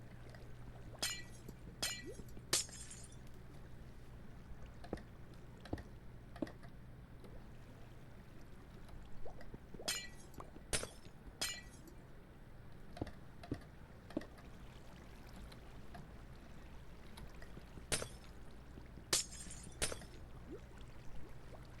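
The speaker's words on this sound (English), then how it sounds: "The glass shattering is a little bit satisfying." Glass blocks shattering in the video game Minecraft, sharp crisp breaking bursts arriving singly and in quick clusters over a faint low hum, quiet and without talk.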